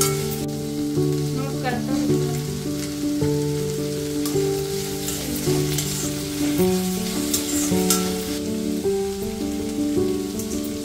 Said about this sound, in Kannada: ಟೊಮ್ಯಾಟೊ ಹಾಕಿ ಅದು ಕೂಡ ಎಣ್ಣೆ ಬಿಡೋ ತನಕ ಫ್ರೈ ಆಗಬೇಕು